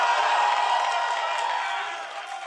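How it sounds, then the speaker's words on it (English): A live crowd at a North American League of Legends esports match cheers and applauds in a dense, loud, continuous wash that slowly fades slightly toward the end. "Do you get this much applause in solo queue?"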